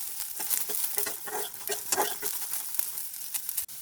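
Soybean chunks fry in only a little oil in a wok, giving a soft, uneven crackle with light stirring scrapes, faint and close, ending abruptly, no one speaking.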